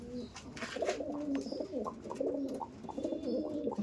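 Andhra Kaldom pigeons, a breeding pair, coo in repeated soft, throaty rolling phrases, close by, over steady background hiss.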